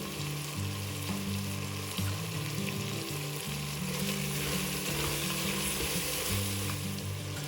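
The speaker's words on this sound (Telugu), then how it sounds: "కూరగాయ ముక్కలు వేగుతున్నప్పుడు" Vegetable pieces frying in a pan with salt and turmeric while making vegetable pulao, a dense continuous sizzle with occasional stirring scrapes, close and steady throughout, with no talking.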